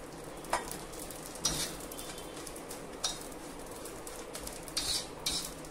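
Grated coconut and a spoonful of poppy seeds dry-roasting in a pan for Saoji patwadi rassa give a faint, low sizzle, broken by several sharp spatula scrapes and taps against the pan.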